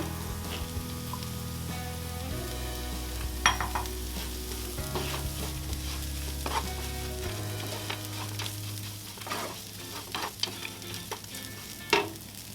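Soaked rice flakes (aval) being stirred and fried in a pan for upma, with steady sizzling and scraping of the spoon against the pan, close up, a few sharper clinks along the way, no talking.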